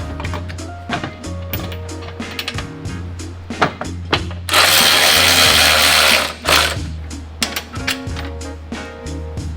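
A power tool tightens a skid bolt on an EcoDiesel Jeep Gladiator belly skid, giving a close series of short whirring bursts and clicks around one long, loud continuous run in the middle.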